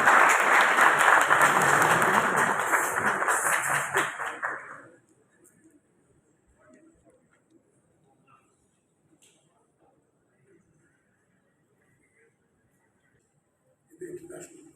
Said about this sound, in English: please welcome our chief guest, our Right Honorable Prime Minister Sher Bahadur Deoba, for his special remark with a huge round of applause.